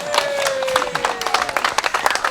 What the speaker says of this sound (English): Let's have another tickle of applause for this guy as he gets out.